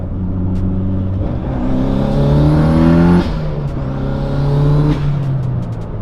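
A turbocharged Subaru STI engine accelerates loudly, revving up in rising harmonic sweeps, easing briefly, then climbing again, with a faint whistle above the engine roar; the wastegate seems not to open.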